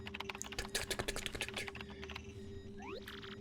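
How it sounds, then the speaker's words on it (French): Rapid keyboard typing in Paper Mario: The Thousand-Year Door, a quick run of close clicky keystrokes that stops halfway and is followed by a short rising electronic chirp. "Saisis ton message et l'adresse du destinataire sur le clavier devant moi."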